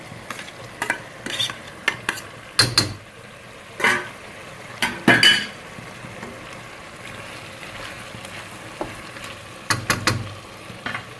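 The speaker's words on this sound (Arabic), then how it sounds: "هلا بنحط شوية البندورة، نحط البندورة اللي فرمناها" Chopped tomatoes frying in a pan for chicken mandi, with sizzling under repeated stirring scrapes and clatter of utensil against the pan, close and moderately loud.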